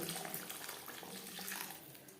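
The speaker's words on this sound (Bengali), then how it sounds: "এবার দিয়ে দেব জল" Water pours into a simmering tilapia fish curry with young green peas, a soft continuous splashing and trickle heard close but fairly quiet, without talk.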